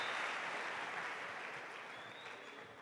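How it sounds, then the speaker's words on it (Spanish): Audience applause at a cabaret comedy show in Ecuador rises as a dense wash of clapping, then slowly fades over a few seconds. "Un aplauso, por favor, para Daisy y para David."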